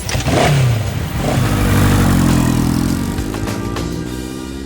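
A motorbike engine starts and revs up loudly, its pitch rising and falling through a couple of throttle blips before settling into a steady, strong drone close by.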